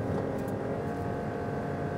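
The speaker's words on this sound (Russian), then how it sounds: "Это был разгон с 40 до сотни." Cabin drone of a 2020 Toyota Raize Z 4WD with its one-litre 1KR-VET engine pulling from 40 to 100 km/h on asphalt: a steady, fairly faint engine hum and road noise throughout.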